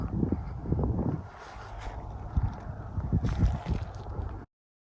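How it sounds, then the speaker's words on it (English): Mower engine running steadily while cutting matted-down grass in an old field, a low rumbling drone with rough fluctuations and wind buffeting, close and continuous before cutting off. "I'm gonna mow this grass."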